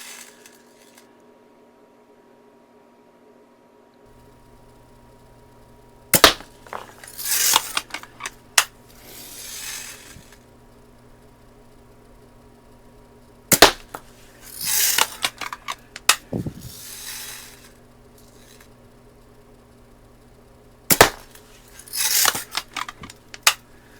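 A rebuilt Daisy 299 BB gun fires in three bursts of sharp snaps, each followed by clattering and ringing hits on targets, over a low steady hum.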